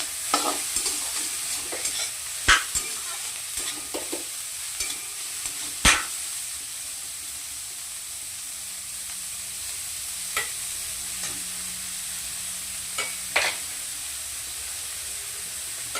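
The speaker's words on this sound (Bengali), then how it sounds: "এরপর আমি দিয়ে দিচ্ছি গাজর এবার ভালো করে নাড়াচাড়া করে নিতে হবে" Carrots stirred in a hot frying pan for restaurant-style chow mein give a steady sizzling hiss, broken by sharp scrapes and clacks of the utensil at irregular moments. No voices.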